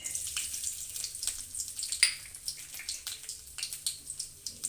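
Ginger and garlic paste frying in hot sesame oil in a kadai, with a continuous crackling sizzle and sharp popping spits scattered throughout.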